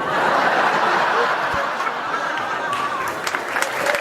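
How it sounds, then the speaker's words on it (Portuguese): Studio audience applauding during a Brazilian comedy talk show on politics, a steady dense wash of clapping mixed with laughter, with voices talking over it throughout. "E ela aplaudiu também"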